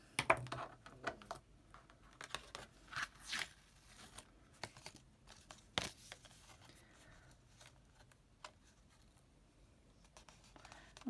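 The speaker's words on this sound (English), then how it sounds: "I'm just going to fold these over." Paper card corners are folded over and creased, making soft, close rustles, scrapes and small taps in scattered bursts against a quiet background.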